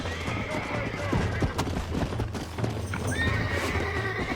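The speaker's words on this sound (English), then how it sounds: "Use your lasso to capture a wild horse." A wild horse in the video game Red Dead Redemption whinnies and snorts over clopping hooves and a low background rumble, fairly loud and close throughout.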